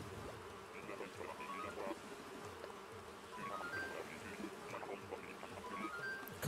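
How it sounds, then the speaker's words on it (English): A swarm of wasps buzzes faintly but without pause, a droning hum with brief whining notes drifting past close by. "it was going to be wasps"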